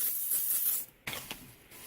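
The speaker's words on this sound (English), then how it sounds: "Just a few sprays of Pam, just so it doesn't stick too bad" A short hiss of a Pam cooking spray can, steady for under a second, then a brief pause and a couple of softer clicks and rustles nearby.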